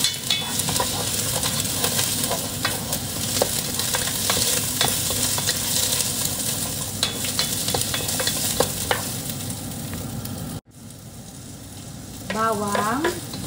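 Onion sautéing in a pan for tinola, a loud dense sizzle with scraping stirs that runs for about ten seconds, then drops out briefly before frying resumes with a short whine-like tone.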